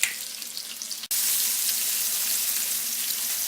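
Pork browns in a frying pan with herbs, garlic and onion over lowered heat, giving a steady, dense sizzling hiss that briefly cuts out, then returns louder and constant.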